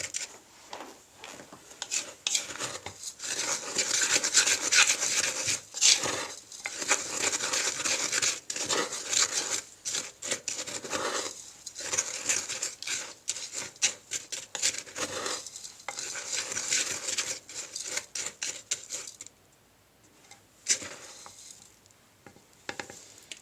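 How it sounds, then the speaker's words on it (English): An incense and oil blend for a solstice mix is stirred around in a large bowl, giving a continuous gritty scraping and rustling for over twenty seconds, close and steady with brief pauses. "I really need to be able to get this blended around and stirred around."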